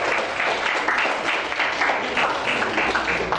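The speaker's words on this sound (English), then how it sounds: "give applause please to the lady" An audience claps steadily and densely, welcoming a lady from Japan at a junior science event, loud and continuous throughout.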